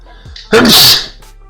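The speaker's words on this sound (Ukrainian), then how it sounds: "дуже дякую всім, хто по той бік екрану сказав будь здоровий" A single loud, sharp sneeze bursts out alone, preceded by a faint intake of breath and tailing off into quiet.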